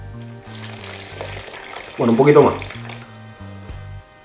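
Water is poured into flour for Venezuelan ham bread dough in a brief splashing burst. It rises over soft background music while someone speaks before and after.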